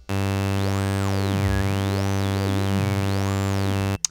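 A buzzy sustained synth tone through the Fruity Love Philter peaking filter, its sharp resonant peak sweeping up and down, whistling through the harmonics, loud and alone.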